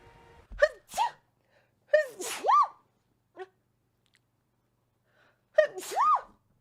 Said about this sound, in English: I got to fucking sneeze again.